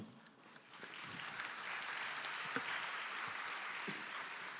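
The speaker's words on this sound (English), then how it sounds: "shall we give ourselves a big round of applause?" A graduation ceremony audience applauds, a soft and distant wash of many hands that swells after a quiet start and holds steady.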